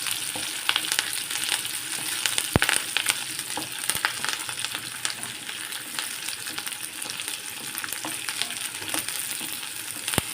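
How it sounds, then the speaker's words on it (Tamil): Small shallots sauté in oil for a lentil-ball curry (paruppu urundai kulambu), a steady close sizzle punctuated by a few sharp clicks of a spoon stirring against the pan, with no voices. "சின்ன வெங்காயம் போட்டால் நல்லா டேஸ்ட்டாக இருக்கும் உருண்டை குழம்பு. இதை நல்லா பொன்னிறமாக வதங்கணும்"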